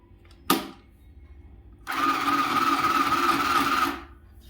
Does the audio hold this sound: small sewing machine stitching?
yes